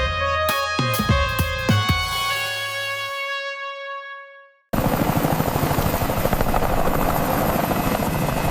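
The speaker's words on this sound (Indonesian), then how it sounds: "Berisik banget deh. Helikopternya Putri Sultan Abal-Abal itu cepet banget" A helicopter flies close and loud, a dense, continuous rotor thump with a rapid rhythmic beat that starts abruptly and holds steady, coming after a burst of bright chiming tones that fades to silence.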